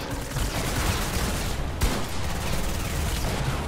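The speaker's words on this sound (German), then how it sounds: "die knallen sich schon gegenseitig ab" Gunfire in the video game Fortnite: rapid, dense bursts of shots rattle continuously with one sharp louder crack in the middle, fairly loud and with almost no talk.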